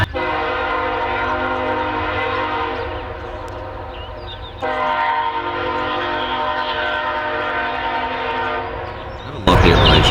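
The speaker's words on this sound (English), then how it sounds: "I have a love-hate relationship with that train" A train's loud, sustained horn blows close by, its stacked harmonic tones holding steady with one brief break midway, over a rumbling rail-car roar.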